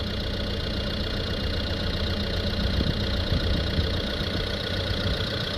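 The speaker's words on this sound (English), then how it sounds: "I hope you can hear me okay with the engine running there." A Mercedes A180 diesel engine with a diesel particulate filter fault idles steadily close by, a low continuous hum with a faint knocking texture, no voices.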